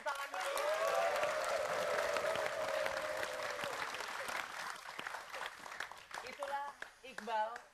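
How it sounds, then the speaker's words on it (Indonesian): Studio audience claps on an Indonesian evening TV show, a strong burst over a sustained musical tone that gradually thins, with scattered voices and sung phrases coming through toward the end. "beri tepuk tangan dulu"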